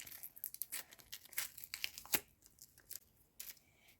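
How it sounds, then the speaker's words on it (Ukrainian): Close, crisp tearing and crinkling of a paper packet in quick irregular rips, quiet and alone without speech. "Порвався пакетик."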